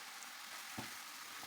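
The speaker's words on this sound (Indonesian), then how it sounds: "Diaduk rata, kita layukan terongnya dan kita matangkan ayamnya." Eggplant and chicken frying in a pan with oyster sauce and sweet soy sauce, a steady close sizzle with one soft stirring scrape partway through.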